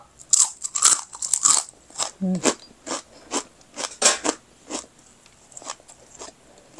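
Close, loud crunching and chewing of breakfast food, including egg with potato and tomato, comes in a quick irregular run of bites and chews with brief pauses and no talk.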